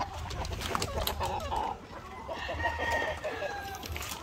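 Black Australorp chickens on a farm cluck and call up close. A rooster-like crow rises among the steady clucking against light outdoor background noise.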